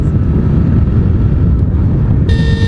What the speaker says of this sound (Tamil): அதனால் விசுன்னு காற்றடிக்குது